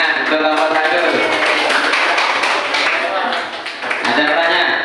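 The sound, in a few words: classroom applause for group number 1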